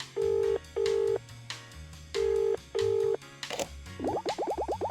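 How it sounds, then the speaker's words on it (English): Telephone keypad dialing in a Paper Mario fairytale fan game, four loud steady dial tones in pairs, then a short burst and a rapid run of chirping ring pulses, with no talk. "Please wait 1 second while I phone my boss."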